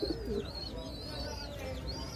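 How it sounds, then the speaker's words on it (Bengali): Domestic pigeons, a female paired with a cock in a breeding loft, coo softly and steadily at close range, with a few faint higher chirps mixed in and no voices. "এই যে একটা কবুতর"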